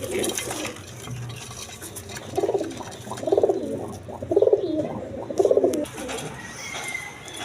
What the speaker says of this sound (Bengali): রানিং পিয়ার ডিম বাচ্চা করানো কবুতর।